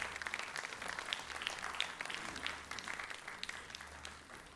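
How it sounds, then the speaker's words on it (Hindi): Quiet, steady applause rises from the audience at a ceremony marking a television show's hundredth episode, sounding fairly distant, with a low background hum. "आपकी तालियों के बीच हम अभिनंदन भी करते हैं और धन्यवाद भी करते हैं माननीय वेंकैया नायडू जी का"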